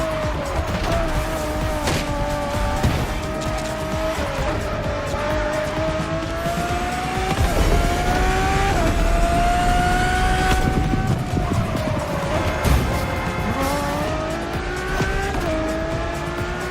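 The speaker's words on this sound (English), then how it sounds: "nothing less than a road-legal Formula One, faster on the track but more civilized on the road, Ferrari went all out" A Ferrari road-legal Formula One car races hard in the video game The Crew Motorfest, its engine screaming and climbing through gear changes for a sustained stretch, loud and close, with tire noise underneath.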